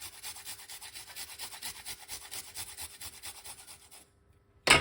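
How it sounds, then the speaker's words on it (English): Garlic cloves grated on a kitchen grater, rhythmic close rasping strokes repeating steadily for about four seconds, then a pause and a sharp loud clatter at the end. "I love to grate my garlic."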